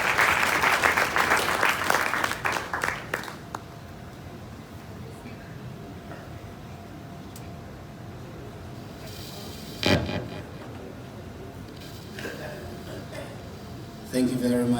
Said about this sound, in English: Another round of applause for these beautiful women.